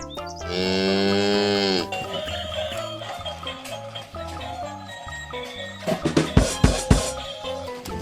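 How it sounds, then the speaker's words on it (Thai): A cow gives one long, loud, close moo with a rich tone. Quieter tinkling, clattering sounds and a short burst of sharp knocks follow it. "cow"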